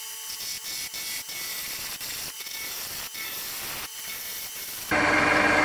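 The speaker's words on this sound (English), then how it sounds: "I'm going to start this off with my roughing gouge shaped like a bowl gouge." A roughing gouge shaped like a bowl gouge cuts a wood blank spinning on a lathe, giving a continuous close rasping hiss with regular rhythmic ticks as the workpiece turns, then a louder, brighter cut at the end.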